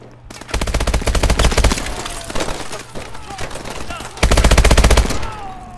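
Rapid automatic gunfire from the video game Call of Duty: Advanced Warfare, two loud sustained bursts separated by quieter scattered shots and battle noise.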